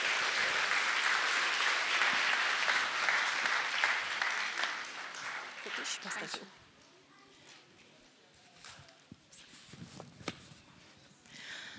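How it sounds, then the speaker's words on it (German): An audience at a Christmas event in Seiffen applauds, dense clapping for about six seconds that then dies away, leaving quiet room noise with a few scattered claps and small knocks. "Ich denke, ein Applaus wäre hier angebracht."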